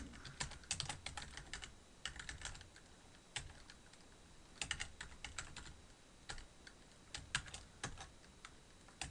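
Typing on a computer keyboard while editing XML code, with steady irregular bursts of crisp key clicks and short pauses between runs, quiet and close with no voices.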